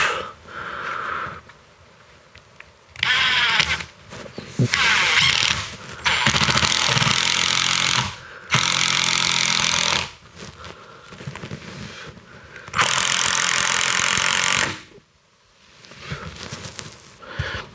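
A power screwdriver driving screws to fix a terrace door frame in place, several loud sustained whirring bursts of a few seconds each separated by quieter pauses, close by.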